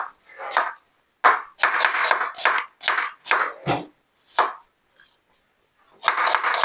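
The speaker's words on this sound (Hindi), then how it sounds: "जी प्याज हमने लिया है आधा किलो, तो वो भी हम स्लाइस में ही काटेंगे" Half a kilo of onions sliced with a knife on a board, a series of close crisp cutting strokes in short bursts with brief pauses between, no talking.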